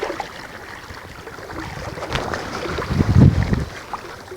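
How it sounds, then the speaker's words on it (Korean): Strong coastal wind buffets the microphone while lure fishing for flatfish from a stone seawall at Taean, a steady broadband roar with heavier low gusts swelling near the end. "바람 억수로 부네요"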